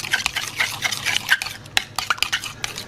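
Sauce for a pork chop hot pot roast, made with ketchup, barbecue sauce and sugar, is whisked in a bowl, giving close, uneven bursts of scraping and clinking strokes with short pauses between them and no talk.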